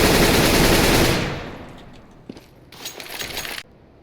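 Rifle gunfire sprays in CSGO, opening with a dense, loud burst that fades within about a second, followed by quieter scattered shots and a brief rattling second burst near the end.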